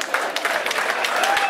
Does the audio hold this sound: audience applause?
yes